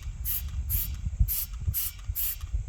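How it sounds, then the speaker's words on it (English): Spray bottle misting vinegar water onto a brass drum shell, five short sharp hissing sprays in an even rhythm, close and fairly loud over low background rumble, with no talking. "put it in the spray bottle, gonna spray it off"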